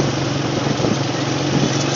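A motorcycle engine runs steadily and loudly up close with a constant low rumble and no pauses, set against the outdoor backdrop of a cross-country road race.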